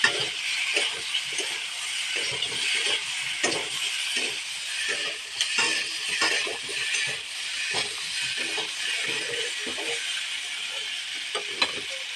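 Potatoes and meat fry together in a pan, giving a steady moderate hiss broken by soft irregular stirring taps, with no voices.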